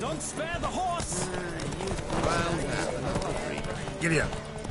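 Horse hooves pound in a galloping race in The Witcher 3, a steady clip-clop running beneath dense game music and voices for the whole stretch.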